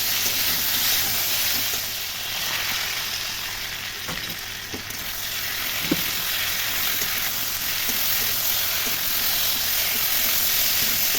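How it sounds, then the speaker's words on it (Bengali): Ground spice paste frying with taro in a pan for a Bengali shol fish and man kochu curry: a steady, loud, close sizzle with occasional stirring knocks throughout. "মশলাটা প্রায় কষানো হয়ে গেছে।"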